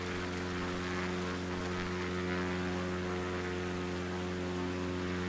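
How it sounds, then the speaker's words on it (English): A light propeller airplane in flight over North Queensland, a steady droning engine hum with strong even tones, constant and close as heard from inside the cabin. "Plane is desperately trying to turn right again."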